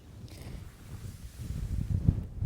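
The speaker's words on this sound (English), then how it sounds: "It's such a beautiful day, but windy, so windy." Wind on a UK farm buffets the microphone with a low rumbling roar that swells and grows stronger toward the end.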